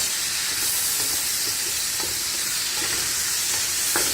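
Sausages sizzle steadily in a hot pan for jambalaya while a wooden spoon stirs them, with soft scraping knocks every half second or so over the constant frying hiss.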